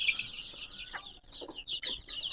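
Desi chickens on a small farm cluck and chirp close by in quick, uneven bursts, several birds overlapping with one another and no voices heard.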